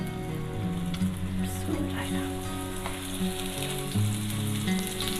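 Liver fries in a pan, cooked Turkish style, with a steady close hiss and crackle of hot oil running throughout, backed by soft music.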